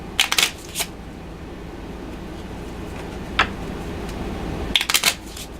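Quick riffling bursts of cards being shuffled for the board game Forbidden Island, one at the start and another near the end, with a soft tap in between and quiet room tone.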